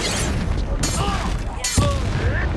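Confringo blasting spell in Hogwarts Legacy: two sharp booming blasts about a second apart, loud and close over constant battle noise and game music.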